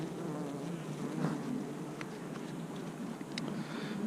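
Honeybees buzzing steadily at an open beehive during an inspection, a dense continuous hum from many insects close by with a few brief louder passes.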